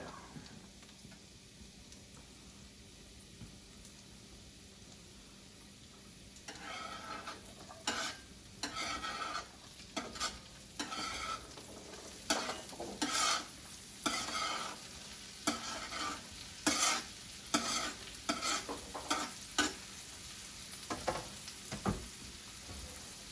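Onion and carrot stir-fried in a pan: a quiet low sizzle first, then from about seven seconds a run of sharp, rhythmic scraping and tossing bursts over steady frying.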